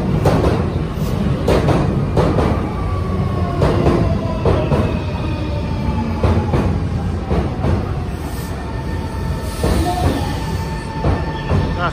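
A Nankai Railway local train pulls out of a station, with a steady loud rumble of wheels on rail joints and rising motor whines building under it, and no talking.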